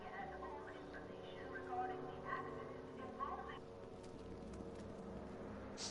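Einie the dog barks and yips in Telltale's Back to the Future video game, Episode 3, a few short yaps mixed under ongoing game speech and background sound.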